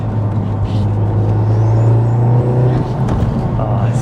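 Manual 500hp MK7.5 Volkswagen Golf R with a custom tune, heard from inside as the engine revs steadily and loudly under acceleration in fourth gear, a continuous rising drone with road noise.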